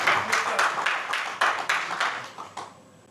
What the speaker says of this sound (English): if you want to clap this, make it louder